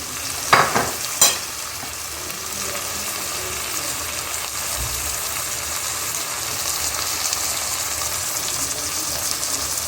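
Steady sizzling of vegetables, including carrots, sautéing in a pan, with a couple of sharp clatters near the start, continuing evenly throughout.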